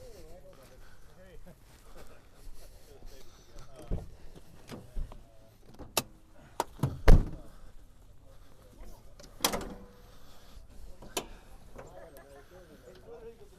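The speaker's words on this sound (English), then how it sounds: "Pop the hood." The hood of a 1994 Toyota Land Cruiser FZJ80 being popped open, giving a few clunks and a sharp metallic latch release mid-clip while someone talks throughout.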